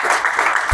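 Crowd at a Super Six league sports event in Karimnagar clapping in a steady, dense burst of applause, close and loud for under a second.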